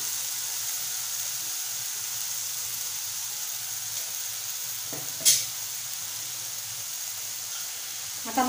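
Potatoes sautéing in a pan for a quick spiced potato bhaji, giving a steady soft sizzle throughout with one brief clink of stirring near the middle and another at the end.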